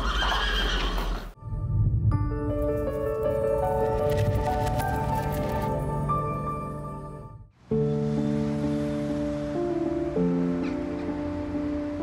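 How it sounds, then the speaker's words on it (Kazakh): Horses at a breeding farm neigh loudly in a stable, two long, shrill whinnies with a short break between, clear and close with no talking. "Осы Атқорада біздің қосына жылқы тұқымдары тұр."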